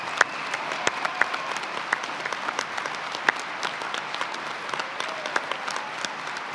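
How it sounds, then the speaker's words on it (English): Applause for the spouses at a law enforcement torch run gathering, a sustained crowd of clapping with scattered sharp individual claps, continuous and fairly close, no voices over it. "Give them a round of applause"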